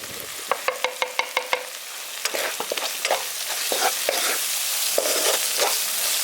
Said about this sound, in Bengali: গুঁড়ো মশলাগুলো দিয়ে ভালো করে মিশিয়ে দিচ্ছি